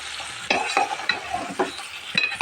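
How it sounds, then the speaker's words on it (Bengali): Boiled radish tipped into a pan of frying spice mix for a radish and puti fish dish, giving a steady close sizzle with several sharp bursts of scraping and splattering as it is stirred. "এখন আমি মূলাটা ঢেলে দিই সেদ্ধ করে রেখেছিলাম মূলাটা ঢেলে দিলাম"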